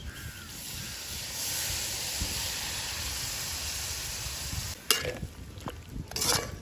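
Coconut milk poured into an elephant foot yam curry simmering in a pot for a Jaffna village cooking feast: a steady, fairly loud bubbling hiss runs for several seconds, then gives way to a few sharp clattering knocks near the end.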